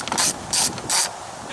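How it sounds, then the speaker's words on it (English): A ratchet clicks in three quick bursts as 10mm bolts are loosened on the engine cover of a Pontiac Vibe / Toyota Matrix, each burst of ratcheting sharp and close with short pauses between. "I'm going to go ahead and take 10mm, loosen off my cover"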